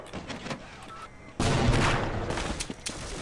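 Gunfire in the Half-Life mod C.A.G.E.D. starts with a few scattered shots, then breaks into a loud, dense burst of fire that continues with uneven peaks.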